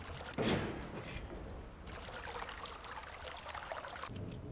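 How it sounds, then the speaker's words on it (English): Steady flowing water in the Myst video game, a continuous stream-like wash with a brief louder splash near the start, moderately quiet and without speech. "Water flowing."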